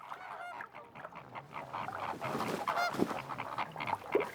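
A flock of European flamingos calls outdoors in spring, a continuous overlapping chorus of nasal, goose-like honks at moderate distance.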